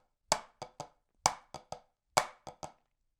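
Crisp sticking on a drum practice pad in three groups of three sharp taps, each group a single stroke followed by two quicker ones, played as clean unison hits, close and alone with no talking.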